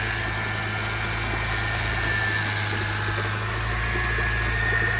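A BMW E90 engine idling after a motor swap, with a steady low rumble and a faint high whine suggesting a bad idler pulley, heard up close with no talking.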